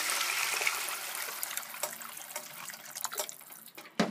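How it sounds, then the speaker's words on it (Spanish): Water poured into a soup pot holding onion, carrots and fried meat, a steady close splashing and trickling that fades and becomes patchy toward the end, with no talking. "1 litro y 1/4 de agua."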